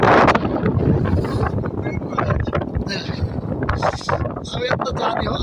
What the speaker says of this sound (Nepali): यो कच्ची बाटोमा आइपुग्नु हावा यस्तो चलेको छ नि।